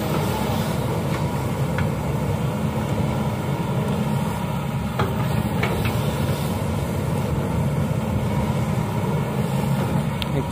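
A Kobelco SK200 Super XM excavator engine runs hard throughout, a steady loud low diesel rumble with no pauses, working on a job site ahead of the rainy season.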